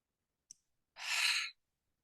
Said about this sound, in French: On va amener la respiration pour venir gonfler le ventre.